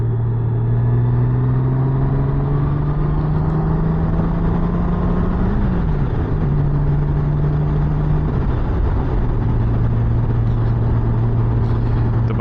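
A Honda Gold Wing luxury motorcycle cruising on the road, its engine a loud, steady drone heard from the rider's seat, with the pitch shifting briefly as the rider changes speed, under constant wind rush.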